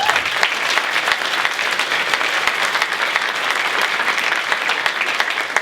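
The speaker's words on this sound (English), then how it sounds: "that might be your last clap" A large audience at the 2023 Greater Danbury Chamber of Commerce mayoral debate applauds, dense sustained clapping from many hands, loud and close, with sharper individual claps standing out and no talk over it.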